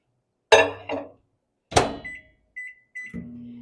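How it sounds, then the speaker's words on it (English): A few sharp clunks and knocks, then a series of short electronic beeps, followed by a low steady hum starting up. "We're going to microwave for 30 seconds."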